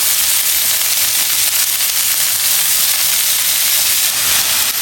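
Chopped vegetables for vegetable rolls fry in a hot pan, giving a loud, steady hiss and sizzle close up that holds evenly throughout, with no speech.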